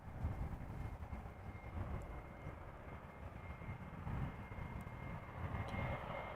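A KLM Embraer 190 jet arriving at Amsterdam Schiphol from Southampton makes a steady, moderately distant engine roar with a broad low rumble throughout, no speech over it.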